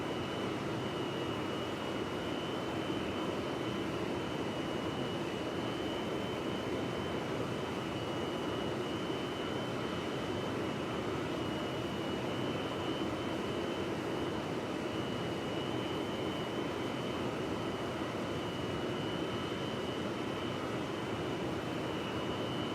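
Su-27 jet fighter flying in the combat flight simulator DCS World, a constant broad roaring rush of engine and airflow, unbroken and even for the whole stretch.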